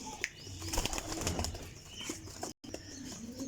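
Parwazi flying pigeons flap their wings in a quiet space, giving irregular bursts of fluttering close by, with faint coos and chirps around them and a brief dropout partway through.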